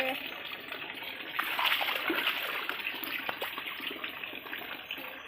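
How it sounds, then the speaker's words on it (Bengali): Running tap water splashes and gushes steadily over dishes being washed by hand, a continuous close wash with voices talking over it. "এদিকে সব থালা বাসন ধুয়ে রেখে দেবেন"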